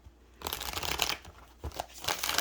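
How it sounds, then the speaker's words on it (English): Tarot cards being shuffled in quick riffling bursts, close and fairly quiet, with a short pause between two rounds of shuffling. "Sorry about the shuffling."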